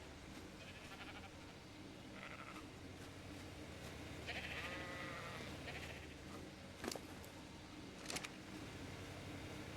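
Sheep bleat in a survival video game, several distinct calls scattered over a steady background hum, with a couple of sharp clicks standing out near the end.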